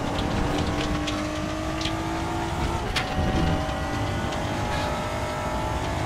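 A GT4 race car engine in the RaceRoom racing simulator drones steadily at high revs from the cockpit, with gear and pitch shifts and some tyre and curb noise, loud and continuous without talk.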